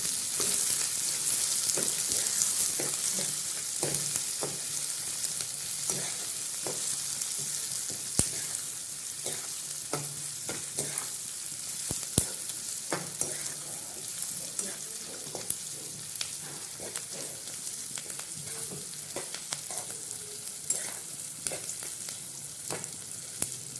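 Beans and capsicum pieces fry in a pan with a steady, fairly loud sizzle, broken by frequent clinks and scrapes of a spoon stirring them, and no voice.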